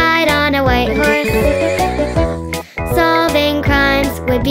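A horse neighs within a children's pretend-play nursery song, the whinny set against loud, continuous music with a brief drop near the end.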